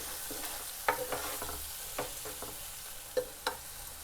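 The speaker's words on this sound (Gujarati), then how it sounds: "થોડી વાર તેલમાં ચડવા દઈશું મસાલાને" A soft, continuous sizzle of mixed spices frying in hot oil for a fenugreek and gathiya curry, punctuated by occasional sharp spoon scrapes and taps against the pan.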